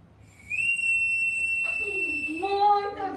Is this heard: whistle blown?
yes